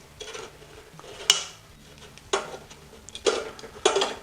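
Bacon strips being turned over in an air fryer basket: a few sharp metallic clinks and taps of tongs against the basket, spaced irregularly and close, with quiet gaps between.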